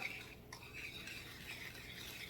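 A spoon stirs powdered sugar and cinnamon powder together in a bowl, making soft, faint scraping and brushing sounds that continue without a break at close range, with no voices.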